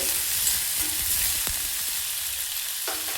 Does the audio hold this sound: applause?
no